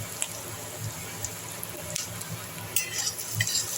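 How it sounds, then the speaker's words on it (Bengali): Ginger and garlic pieces going into half-fried onion in a pan: a continuous close sizzle with scraping stirs and light clatter that picks up toward the end. "এই পর্যায়ে আমি আদা রসুনের টুকরোগুলো দিয়ে দিচ্ছি এর মধ্যে।"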